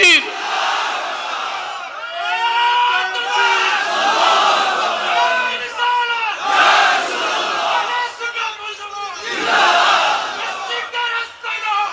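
A large crowd at a religious sermon roars the takbir response in repeated loud chanted waves, many voices shouting together in unison with short gaps between calls.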